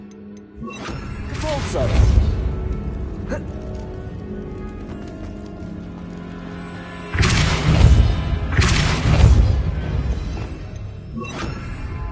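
Bombarda, an explosion spell in the Hogwarts Legacy video game, sets off heavy booming blasts with crashing debris, in two clusters with quieter rumbling between. A voice speaks briefly over the action.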